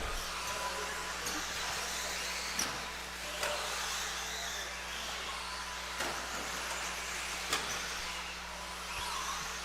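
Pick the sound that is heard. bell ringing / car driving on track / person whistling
car driving on track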